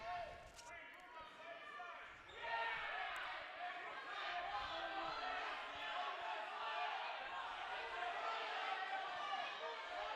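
Spectators at a North Dakota boys high school wrestling triangular rise into loud cheering and shouting, swelling abruptly after a quieter stretch and holding steady as a dense crowd roar with voices mixed in.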